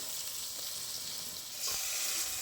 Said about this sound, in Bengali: টমেটোটা একটু ভেজে নেবো পেঁয়াজের সাথে।